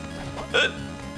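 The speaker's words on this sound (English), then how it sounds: "That was a really loud hiccup." One loud, abrupt hiccup from a person playing a video game, a short sharp burst over low background sound.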